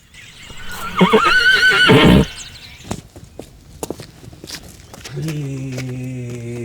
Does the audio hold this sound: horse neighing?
yes